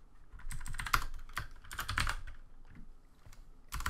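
Code being typed on a computer keyboard, close and clear, in quick bursts of key clicks with short pauses between and a few louder strikes.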